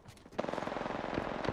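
Apex Legends gunfire: a sustained burst of rapid automatic shots with a clear mechanical rhythm, preceded by a few scattered pops, fairly close and continuous to the end.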